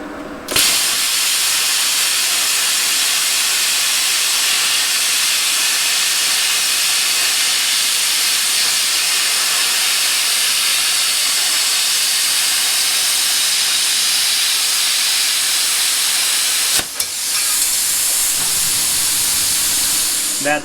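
A Bestarc BTC500DP plasma cutter set to 15 amps cuts sheet metal with a loud, steady, bright hiss that starts abruptly, holds for most of twenty seconds, briefly breaks, then resumes.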